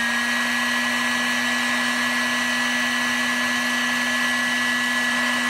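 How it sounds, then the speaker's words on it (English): Heat gun blowing continuously to shrink a solder sleeve over joined wires, a steady loud whooshing hum with a constant tonal whine throughout. "Now, I'll get the heat gun,"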